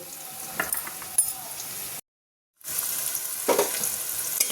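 Bitter gourd slices frying in hot oil for a Bengali rezala, giving a steady close sizzle with a few louder crackles, broken by a short silent gap before the frying resumes.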